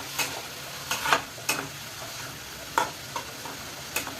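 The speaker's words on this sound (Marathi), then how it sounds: "असा कांदा चांगला भाजून घ्यायचा मोठ्या गॅसवर" Onions sauté in a pan over a high flame, with a soft steady sizzle under several distinct scraping stirs of a spatula spaced irregularly through the clip.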